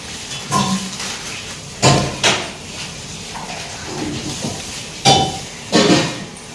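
Utensil clanking against a bowl while spicy tomato-chilli chutney for momos is mixed, giving sharp irregular clinks and knocks with quieter scraping between them, close and without speech.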